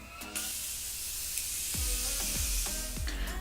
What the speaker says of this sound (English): I'm just gonna finish that off with some setting spray.